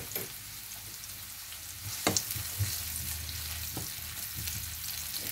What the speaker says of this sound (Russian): Красную луковицу немного обжариваем.